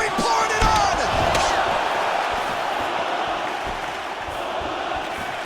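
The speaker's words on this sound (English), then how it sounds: "you hear the crowd react every time they come together" Virtual arena crowd in the UFC 4 fighting game roars and surges as the fighters clash, with sharp impact thuds early on, then a steady, loud crowd bed that slowly eases.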